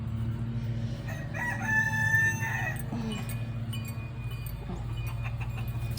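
A silver-laced Polish rooster in a backyard mixed flock crows clearly, one drawn-out call in the middle, over a low steady background with faint clucking.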